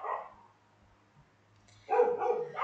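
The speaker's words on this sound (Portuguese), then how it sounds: "desculpa o cachorro gritando" A dog barks twice, loud and close, with a short yelping bark at the start and another after a quiet gap. A faint low hum runs between the barks.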